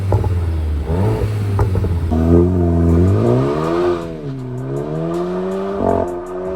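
A Volkswagen MK8 GTI with an AWE Touring Edition exhaust revs up and settles back several times, its engine tone sweeping up and down, loud and close with a throaty rumble and no voices.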